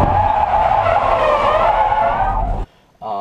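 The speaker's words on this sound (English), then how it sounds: "I'll post a video in this video of me spinning at the last track event" A car spinning out at a track event, its tires skidding in a long loud squeal with engine roar for over two seconds, then a sudden drop to near silence before engine noise returns.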